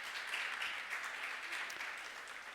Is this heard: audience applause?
yes